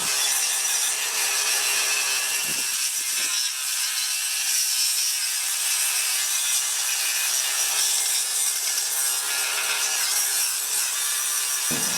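A Dewalt FLEXVOLT 54V brushless 125mm (5-inch) DCG414 grinder with a flat disc strips rust, giving a loud, continuous, harsh high-pitched grinding roar that holds steady throughout with brief dips as the disc shifts on the metal.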